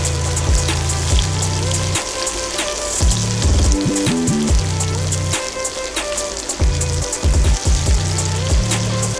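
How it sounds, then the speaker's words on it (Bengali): Julienned onions fry in ghee for a mutton roast, a loud, dense, crackling sizzle up close, with repeated low rhythmic tones running underneath. "এরপর দিয়ে দিচ্ছি জুলিয়ান অনিয়ন, এটাকে ভালো করে ভেজে নিলাম"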